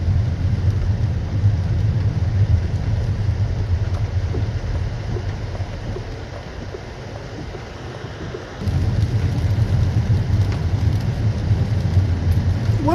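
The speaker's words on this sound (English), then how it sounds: "the noise of the tyres just rumbling along" Tyres of a Citroen C5X hybrid running quietly on electric power rumble steadily along the road, a continuous low drone heard from inside the cabin, briefly easing before returning at full level.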